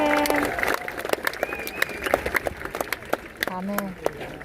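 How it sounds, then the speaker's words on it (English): Audience clapping at a Mountain College Prep Academy graduation ceremony, scattered hand claps mixed with a speaker's voice and crowd voices. "Clap your hands."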